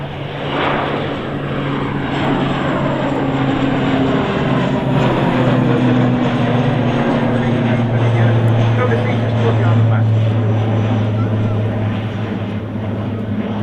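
A fixed-wing aircraft takes off at Manchester Airport, its engine roar loud and steady throughout with a rising, sustained drone near the runway viewing area.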